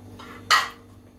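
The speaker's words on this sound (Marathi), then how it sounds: "आता मी कढई ठेवलेली आहे गॅसवरती" A metal kadhai set down on a gas stove, giving a single sharp clank at close range after a softer brief scrape, then fading into quiet kitchen background.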